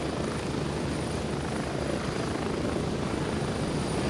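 Helicopter flying in the video game Gray Zone Warfare, a steady close rotor chop and engine roar holding at constant loudness throughout with no talk.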